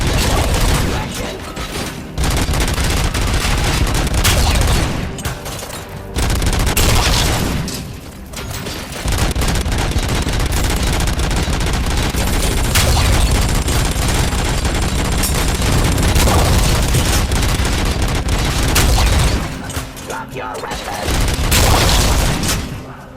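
Heavy gunfire and explosive booms from snipers and combat in RoboCop: Rogue City, loud sustained bursts of shots and blasts filling most of the stretch with brief lulls between volleys.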